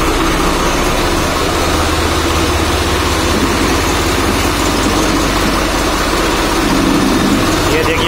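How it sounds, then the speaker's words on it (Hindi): A heavy diesel Swaraj tractor engine idles close by, a steady low thumping rumble that stays loud throughout. "बहुत ही गजब आवाज है भाइयों ट्रैक्टर की"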